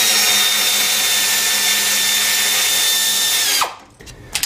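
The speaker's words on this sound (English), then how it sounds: "Here I'll go ahead and loosen the strap bolt that supports the upper automatic transmission cooling line at the base of the radiator." A power tool loosens the radiator strap bolt on a Jeep XJ Cherokee, running as a loud, steady whirring whine for several seconds before winding down and stopping, then a faint clink follows.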